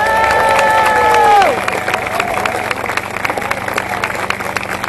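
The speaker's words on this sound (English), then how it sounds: "Come on, a big round of applause" Rally crowd in Hull applauding and cheering after a speaker finishes, with a harmonic tone fading out early while dense clapping and scattered shouts continue steadily at moderate loudness.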